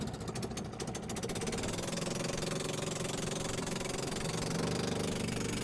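A boat engine being readied for a trip runs at a steady idle, a dense, close, continuous mechanical rumble with rapid knocking pulses and no voices.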